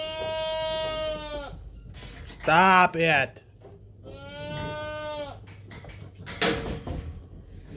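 Goats bleat nearby in a few drawn-out, wavering calls, and a short sharp bleat breaks in between them, with a person briefly speaking and an occasional knock in the background.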